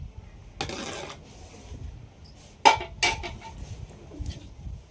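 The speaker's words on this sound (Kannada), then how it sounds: "ಇವಾಗ ಅಷ್ಟು ರೈಸ್ ಹಾಕೊಂಡ್ಬಿಡೋಣ ಪಾತ್ರೆಯಲ್ಲಿ ಇರೋದು" Cooked rice for dum biryani is spooned from a pot, heard as a scraping scoop followed by a few sharp metallic clinks and knocks of the spoon against the vessel, close by, with no speech.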